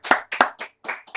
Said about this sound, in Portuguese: dar uma salva de palmas para o Senhor